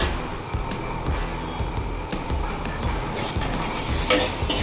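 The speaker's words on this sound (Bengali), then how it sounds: "আলুগুলো একটু মশলার মধ্যে একটু ভাজবো, সঙ্গে টমেটোটাও দিয়ে দেবো।" Potato pieces and tomato fry in spice masala, a steady close sizzle under repeated stirring and scraping, growing brighter and more hissing toward the end.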